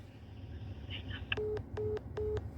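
A call ends on a telephone busy signal: three evenly spaced, clear electronic beeps follow a short muffled voice and run over a low steady hum.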